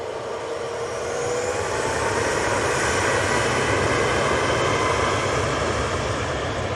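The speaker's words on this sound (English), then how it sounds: "And that Max, Ryanair Max, is off to Lisbon." A Ryanair Boeing 737 MAX takes off from Manchester, its jet engines building from a strong roar into a louder sustained rumble with a faint rising whine, close and continuous, no voices.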